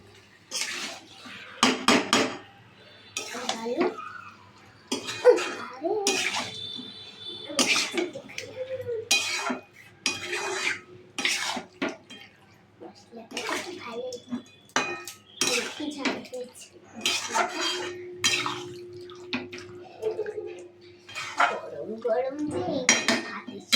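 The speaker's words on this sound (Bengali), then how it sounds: "লোটে মাছগুলো দিয়ে নিলাম ভালো করে নাড়িয়ে নেবো" Lote fish stirred in a cooking pan, with a run of loud metallic clanks and scrapes of a utensil against the pan in irregular bursts, close up, no talk.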